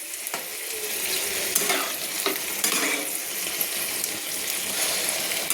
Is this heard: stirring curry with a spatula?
yes